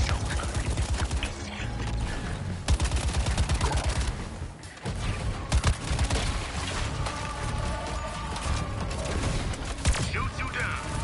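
Gunfire in the Suicide Squad: Kill the Justice League video game runs in dense rattling bursts mixed with mechanical clanks and sharp impacts, loud and nearly continuous with brief gaps.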